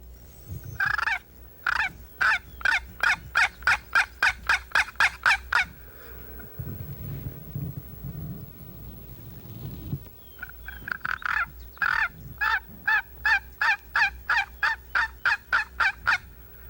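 A turkey box call imitates yelping in two long runs of rapid, raspy, evenly spaced notes, with a low rumbling lull between them.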